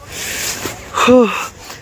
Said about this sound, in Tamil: யோப்பா மூச்சு வாங்குது அப்படி மூச்சு வாங்குது கைஸ்